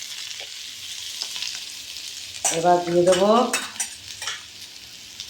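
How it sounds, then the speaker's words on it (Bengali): Potato and paneer fry with a steady sizzle in a pan while being stirred. A brief spoken remark sits over the constant hiss of the frying. "এটা মোটামুটি ভাজা হয়ে গেছে, এইরকম পজিশনে ভাজতে হবে।"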